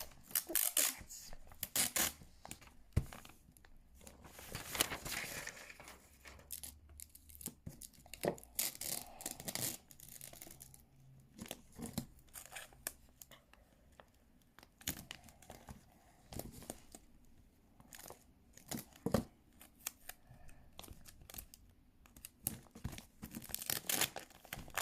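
Adhesive tape is torn and pressed over a handmade paper flower: quiet, close, repeated short rips and crinkles in an irregular rhythm, with no voices.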